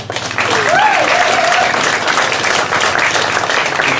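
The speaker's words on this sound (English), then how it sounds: "Let's give a major round of applause for our esteemed guest, Mr. Tommy Clarksonn." A cultural awareness event audience applauds to welcome a guest speaker, full close clapping rising quickly and sustained at an even level, with a brief voice sounding over it early on.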